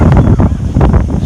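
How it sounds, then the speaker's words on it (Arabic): Gusty wind buffets the microphone in loud, uneven bursts, thumping and rumbling at close range. "كاين شويه د الريح"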